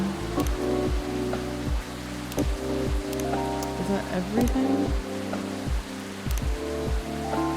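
Steady rain falls throughout a scene in the video game Coffee Talk, a continuous soft hiss with a light looping music bed, while a voice briefly speaks over it.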